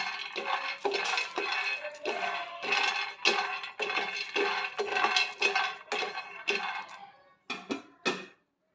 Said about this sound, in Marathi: शेंगदाणे भाजून घ्यायचे चांगले खरपूस भाजून घ्यायचे आहेत शेंगदाणे